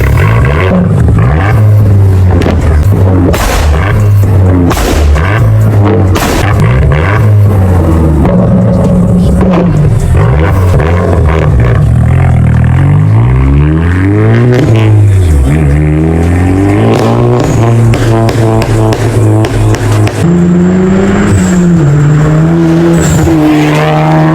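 A stage 2 VW Golf 8.5 GTI engine revs hard again and again, loud and close, its pitch rising and falling in repeated sweeps with no talk over it.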